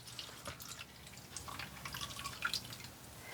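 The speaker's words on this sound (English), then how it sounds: "So I have a fine mesh strainer here. And I'm just going to pour it out" Cauliflower juice poured through a fine mesh strainer, giving a soft, steady trickle with faint dripping, quiet and close throughout with no talk.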